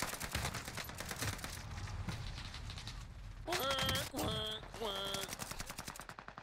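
Rapid bursts of automatic gunfire from a video game, steady rattling volleys throughout with a brief louder flurry midway, a voice speaking once over it.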